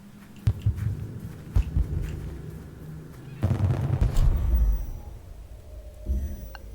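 Gunfire in the stealth video game Dishonored: several sharp, loud bangs in quick succession, followed by a longer rumbling burst with heavy low-end crackle, close and punchy over game ambience.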